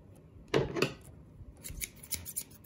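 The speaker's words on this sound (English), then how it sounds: "You take the scissors, you open it, and you open it just a little bit, and you create the little small incision." Scissors snipping a small incision in a thin wire while adding a subwoofer to a soundbar: two sharp, close metallic snips followed by a few lighter clicks and handling sounds.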